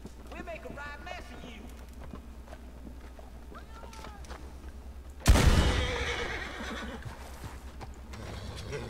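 A horse whinnies in Red Dead Redemption 2 amid a gunfight, then hooves pound loudly in a gallop up close, with voices talking throughout.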